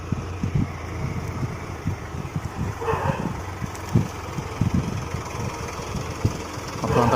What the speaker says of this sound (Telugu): మొత్తం అంతా ట్రాక్టర్తో డోజింగ్ కొడుతున్నాడు.